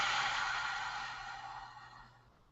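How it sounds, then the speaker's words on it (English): A single long breath pushed out through the mouth, close and airy, fading gradually to quiet over a couple of seconds with no talking. "Breathing out through your mouth."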